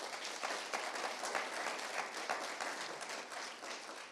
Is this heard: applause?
yes